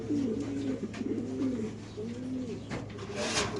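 Several racing pigeons at a pigeon farm coo in soft, repeated rolling phrases, close and steady, with a faint background hum and no talking.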